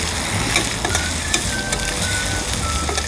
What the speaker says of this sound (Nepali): अब प्याजलाई एकछिन हल्का ब्राउन हुने गरी भुट्नुपर्छ हामीले